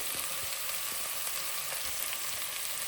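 Ginger fries in a pan for chicken menudo, giving a dense, even hiss of close sizzling with a few faint ticks of stirring and no voices.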